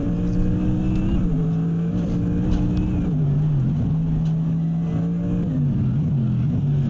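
Onboard a Lexus RC F GT3 race car battling a Corvette at Bahrain, the engine drones loud and steady, dipping and rising in pitch through gear changes into a hairpin.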